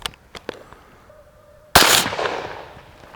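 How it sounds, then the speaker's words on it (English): A single loud rifle shot aimed at a target while zeroing a CVLife Foxspook red dot sight, with a sharp crack and a rolling decay, preceded by a few faint clicks and handling noises. "So I took 2 shots, one first in the chest and then made some adjustments"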